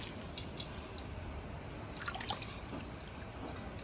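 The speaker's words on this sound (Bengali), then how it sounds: "এবার আস্তে আস্তে চালগুলো দিয়ে দেবো।" Rice grains slipping into a pot of rolling boiling water with a little oil added, for a village-style chicken biryani: a soft, steady bubbling with faint drips and trickles, fairly quiet and unbroken by talk.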